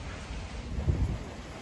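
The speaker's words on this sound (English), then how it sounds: "stuck in the rain." Rain and thunder during a wet day out, a steady outdoor rain hiss with a low thunder rumble swelling briefly near the middle, faint and alone.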